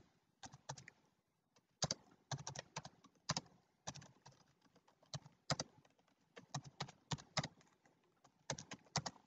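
Fast bursts of typing on a computer keyboard, crisp close key clicks in quick irregular runs with short pauses between, heard alone in a quiet room.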